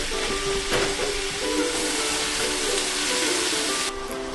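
Ground meat mixture sautéing with onions in a pan, cooking for a Russian baked eggplant and meat dish, giving a steady, close sizzling hiss that runs throughout with small crackles.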